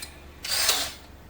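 A brief burst of a power drill boring into the body of a Jeep Gladiator, a short rising whine lasting under a second, close and fairly loud.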